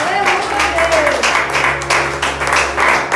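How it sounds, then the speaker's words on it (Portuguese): A church congregation claps during a Pentecostal-style sermon, a dense, continuous round of applause heard close, with a voice and a low sustained tone running beneath it. "aplauda Jesus"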